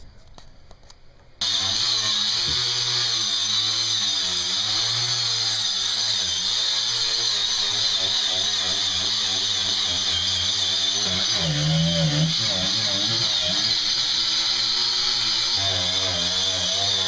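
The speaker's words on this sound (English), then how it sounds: "So I have a wire wheel on my grinder, and I'm taking off the majority of it" Angle grinder with a wire wheel stripping old coating off a sailboat, a loud, sustained whine with shifting pitch as it bites into the surface, starting after a brief quieter moment, with voices faintly in the background.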